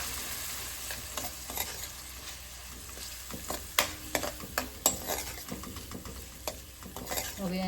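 Kala chana masala with chili and turmeric stirred in a frying pan: a spoon scrapes and clicks irregularly against the metal over a constant close sizzle.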